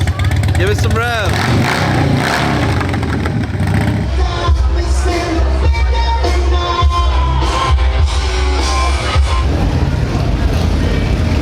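Motorcycle engines rev loudly and continuously among a crowd at a 2023 bike rally in Leesburg. People shout and talk over the steady engine roar throughout.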